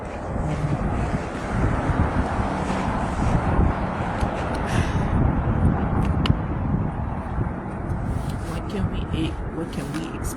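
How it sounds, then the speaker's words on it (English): Cold, biting wind blows outdoors and buffets the microphone, giving a loud, rumbling gusty roar that swells and eases unevenly throughout. "It's windy and cold."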